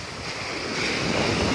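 Atlantic Ocean surf rolls onto Jupiter Beach, Florida, as a continuous rushing wash of waves, with heavy wind buffeting the microphone.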